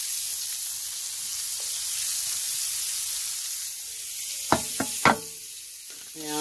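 Vegetables fry in olive oil and pan drippings for a one-pan chicken and zoodles dish, giving a steady soft sizzle and hiss throughout, with a few sharp knocks and clatters of a utensil against the pan near the end.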